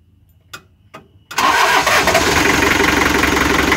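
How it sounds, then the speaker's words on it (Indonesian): A Mitsubishi L300 diesel engine with a fault cranks in two brief bursts, then catches and settles into a loud, steady, clattering idle close by. "Coba tak nyalain mesinnya"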